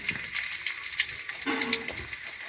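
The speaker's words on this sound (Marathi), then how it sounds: "तेल तापलं आहे लसूण टाकून घेऊ चांगली ब्राऊन झाली पाहिजे" Garlic frying in hot oil in a pan over a wood-fired clay stove for crab masala, with a steady bright sizzle throughout and a brief stir partway through, close and alone.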